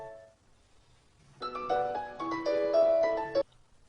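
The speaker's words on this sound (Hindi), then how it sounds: "जरा देखिएगा किसका फोन है।" A melodic phone ringtone plays clearly for about two seconds in a TV drama, preceded and followed by near silence.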